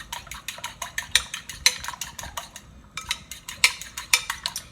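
A broccoli casserole mixture beaten by hand in a bowl, a utensil clinking against the sides in quick, steady rhythmic strokes, close and clear, with a short pause partway through.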